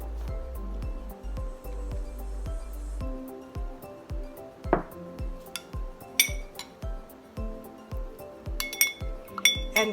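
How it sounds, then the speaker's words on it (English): Spoon clinking and scraping against a bowl while stirring a shower steamer mixture with menthol and eucalyptus essential oils, a steady rhythm of light metallic taps and chinks, close and fairly quiet, with no talk. "And give it a stir."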